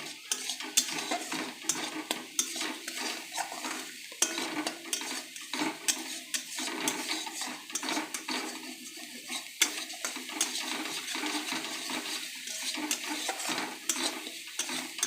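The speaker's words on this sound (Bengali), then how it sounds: "এটা একটু ভাজা ভাজা হয়ে যাবে," Taro pieces frying in oil in a pan while being stirred, a continuous soft sizzle under repeated scraping and clinking of a spatula against the pan, fairly quiet and steady.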